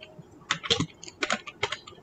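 Code being typed on a computer keyboard, a close run of crisp key clicks in short uneven bursts with brief pauses between them.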